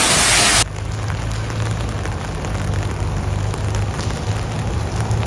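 Heavy rain pours down steadily on a street in Edinburgh, a dense continuous hiss after a brief louder burst at the start.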